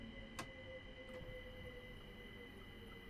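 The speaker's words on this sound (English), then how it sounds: "Here comes another train down the rails." A train rolling along rails in Train Simulator Classic, a low steady rumble with faint sustained tonal hums, a sharp brief click near the start and another soft one a second later, fairly quiet and even throughout.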